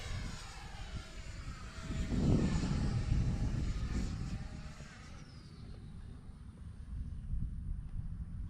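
The Marlin aircraft in a video game flies under a continuous engine drone mixed with wind noise, swelling midway and then settling to a steady hum.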